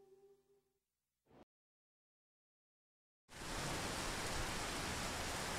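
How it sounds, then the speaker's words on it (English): Steady, dense rain hisses loudly and evenly, starting suddenly after a stretch of near silence and carrying on alone to the end. "It's raining and it's cold today."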